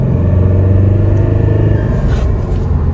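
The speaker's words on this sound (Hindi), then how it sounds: "स्पोर्ट्स मोड लगा दिया ये देखो तीसरा गियर है" A Tata Harrier SUV with a 138 bhp diesel engine, heard from the cabin while accelerating in sports mode in third gear: a loud, steady low engine rumble that holds without breaks.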